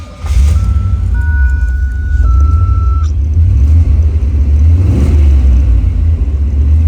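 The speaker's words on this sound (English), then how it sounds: "let me turn the car back on" A 1983 Pontiac Firebird KITT replica comes to life, with a few electronic chime tones followed by a deep, steady engine rumble settling into a loud, close idle, heard from inside the car.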